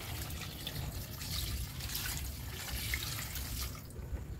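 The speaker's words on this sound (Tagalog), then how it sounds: "Ating lagyan ngayon ng tubig." Tap water running steadily into a container, a soft continuous splashing trickle with faint drips, heard close and alone without talk.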